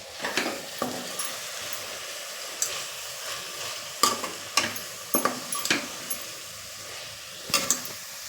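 Turmeric and garam masala are sautéed in hot oil for a dal khichdi tempering, giving a low steady sizzle broken by several sharp scrapes and clinks of a spoon stirring in the pan, close and quiet.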